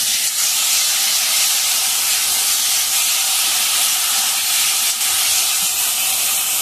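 Onion, green chilies, ginger paste and tomato cooking in oil with five-spice seasoning, a loud, even hissing sizzle that holds steady throughout without pause or voices.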